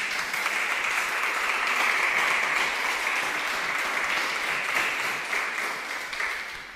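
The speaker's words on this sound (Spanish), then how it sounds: "Denle un aplauso al Señor." A church congregation applauds steadily and loudly throughout, a dense, even wash of many hands clapping with no pause, tapering slightly at the end.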